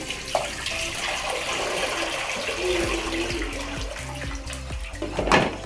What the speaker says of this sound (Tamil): இப்போ நம்ம இதை வாஷ் பண்ணி தண்ணி தான் வடிகட்டணும்